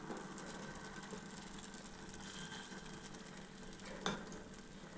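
Sweet potato paniyaram batter frying in oil in the cups of a kuzhi paniyaram pan, a faint, steady sizzle with fine crackling throughout and one brief sharper clink near the end.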